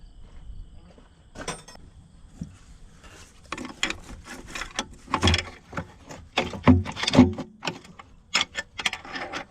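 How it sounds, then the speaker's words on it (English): Crescent wrench working a nut on an antique Caterpillar RD4 transmission, scattered metallic clicks and scrapes in irregular bunches, close and moderately loud, with no talking. "I have to get a crescent wrench on it."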